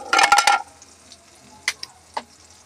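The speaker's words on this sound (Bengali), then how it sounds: "মিশ্রণটাকে ভালো করে চামচ দিয়ে গুলে নিচ্ছি।" A spoon mixes red chilli powder and homemade coriander powder with water in a bowl: a quick burst of scraping and clinking, then a few scattered light taps, close and without talk.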